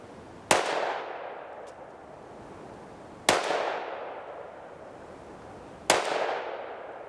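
Three sharp gunshots from a Smith & Wesson M&P 5.7 pistol at an outdoor range, spaced a few seconds apart, each a hard crack followed by a long decaying echo, moderately distant and alone without talk.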